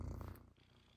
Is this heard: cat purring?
yes